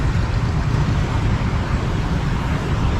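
Busy Saigon street traffic, a dense, continuous roar of engines close by with a steady, unbroken rumble and no talk over it.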